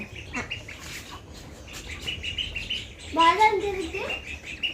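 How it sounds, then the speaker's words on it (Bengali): Ducks quack and squawk nearby in short bursts, with a louder call near the end, over faint background chatter and bird chirps. "হাঁসগুলো বের করে দিচ্ছে"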